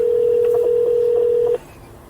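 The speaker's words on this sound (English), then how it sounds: "I'm gonna get on the phone real quick." A telephone line gives a steady, loud single-pitch tone that holds evenly for about one and a half seconds and then cuts off.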